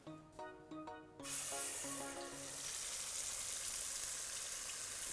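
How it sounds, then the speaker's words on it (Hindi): Garlic and spices hit hot desi ghee with a little oil, bursting into a loud, steady sizzle that holds evenly after a few clear tonal notes at the start. "धीमी आंच पे भुनाई चालू रहनी चाहिए"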